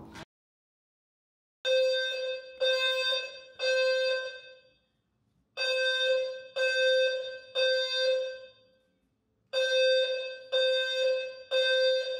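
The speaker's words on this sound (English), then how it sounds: "that was my fire alarm" A home fire alarm sounds in loud, shrill repeating beeps, grouped in bursts of three with short gaps between the groups, close and piercing, with no talk over it.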